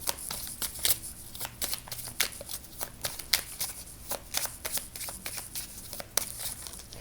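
Tarot cards are shuffled by hand up close, a quick run of crisp, papery riffles and snaps repeating irregularly over several seconds against a quiet background, with no speech.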